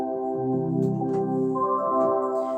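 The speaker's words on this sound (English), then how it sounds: "16-foot flute will sound like this." Technics U50 electronic organ plays a sustained chord on a 16-foot flute stop with a 4-foot stop added, a steady, rich held tone with slight note changes, close and moderately loud, no voice.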